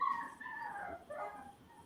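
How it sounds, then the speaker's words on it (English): Puppies whimper and yip in thin, high, wavering cries, several overlapping whines that rise and fall close by, with no talking over them. "Them puppies is not happy with you, Erica."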